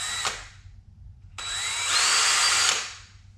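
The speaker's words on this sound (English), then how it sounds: "you come down about 1/4 inch and you drill a hole" A power drill bores a hole in a homemade model spruce tree for a train layout: a short first burst, a pause, then a longer, louder whining run that fades out, close up.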